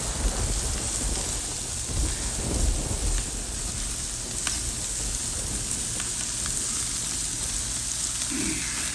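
Steady rain hisses and patters outdoors around a Weber kettle grill, loud and continuous, with a low rumble underneath.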